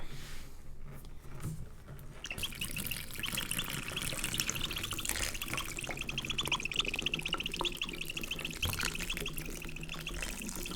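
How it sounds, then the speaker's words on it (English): Water pours and splashes into a reformer chalk mixture in a steady, continuous stream, fairly close and moderately loud, with a brief quieter stretch at the start. "Sorry about the weird noise with the water, guys."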